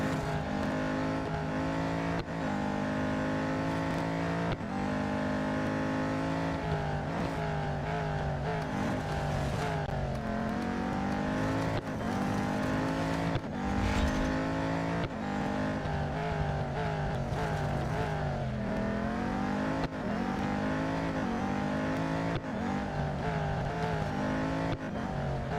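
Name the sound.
race car engines in the video game Real Racing 3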